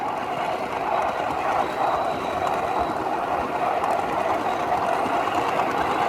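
A small-scale ridable railroad train climbs a steep grade of about three percent on a mountain layout, giving a steady, continuous rumble of wheels and running gear with faint rail clatter and no talk.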